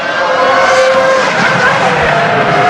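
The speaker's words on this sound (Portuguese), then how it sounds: "o lindo ruído do motor quando você faz essa redução da aproximação da curva." A 2006 Formula 1 car driven by Felipe Massa during San Marino Grand Prix qualifying screams loud and close as it downshifts approaching a corner, its high engine note shifting and modulating under faint commentary.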